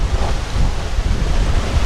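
Ocean rollers striking a sailboat side-on at sea, a steady rushing wash of water with heavy low wind rumble buffeting the microphone, continuous and close with no voices.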